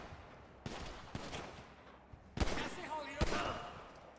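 Video game shootout at a gang warehouse, with guards firing: sharp gunshots and bursts of automatic fire at moderate distance, sounding over a steady background hum with faint voices.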